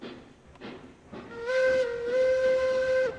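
A Shay steam locomotive's whistle in the train game Railroads Online sounds one long, steady, loud blast after a brief hiss and chuffing, alone without talk.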